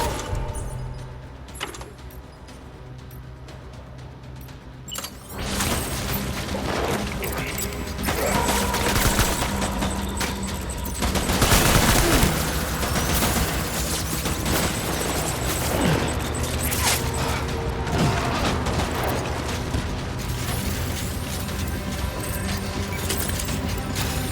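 Gunfire erupts in the video game Death Stranding, dense rapid volleys of shots and clattering mechanical noise that swell into a sustained loud barrage after a quieter opening.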